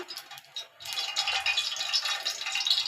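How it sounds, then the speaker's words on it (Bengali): Chopped onion goes into hot white cooking oil for a shrimp and taro-root curry, bursting into a steady crackling sizzle after a brief quieter moment and holding close and fairly loud throughout. "এই যে পেঁয়াজ কুচিটা দিয়ে দিলাম"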